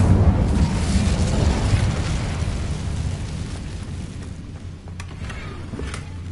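Incendio fire spell cast in Hogwarts Legacy, a loud sustained roaring, crackling burst of flame that fills the whole span and fades slightly toward the end, with no voices over it.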